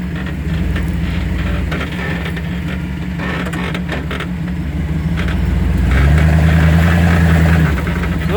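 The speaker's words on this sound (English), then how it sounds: "just driving around, running over bushes" A two-wheel-drive Chevy truck drives off-road over bushes, its engine holding a loud, steady rumble with crackling brush underneath, then revving up more strongly near the end.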